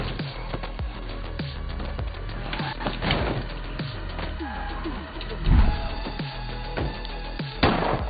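A character gets into a car in the State of Decay 2 video game: a run of mechanical clunks and knocks, a door shutting and the vehicle shifting, with a couple of louder thumps near the middle and end, no talk.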